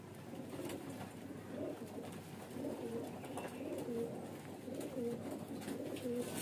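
Young highflyer pigeons coo softly in short, repeated low calls against a steady noisy background, fairly faint and continuing throughout.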